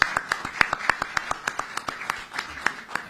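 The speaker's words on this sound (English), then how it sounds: "Let's clap hands for Arsene Wenger, please." An audience claps for Arsene Wenger at a CAF press conference on the African Football League, producing sharp, closely spaced hand claps in a loose, irregular rhythm that is steady and fairly near throughout.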